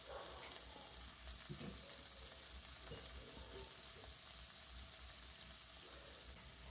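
Chopped onion, curry leaves and tomato sizzle in hot oil for a soybean kuzhambu, a soft, steady frying hiss that continues faintly and evenly throughout.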